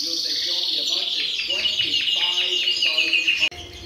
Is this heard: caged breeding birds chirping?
yes